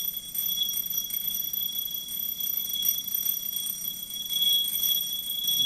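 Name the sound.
electric bell ringing inside bell jar as air returns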